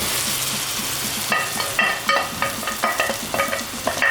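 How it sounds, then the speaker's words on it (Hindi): Chicken pieces sizzle and fry in a spiced masala gravy while a spoon stirs and scrapes the pan in repeated strokes. Steady close-up frying hiss with no talking. "इसको हम अच्छी तरीके से इस मसाले में भून लेंगे"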